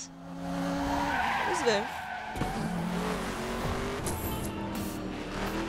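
A car in The Crew video game takes a driving test, with the engine roaring and tires squealing through skids and turns while a player talks over the game sound.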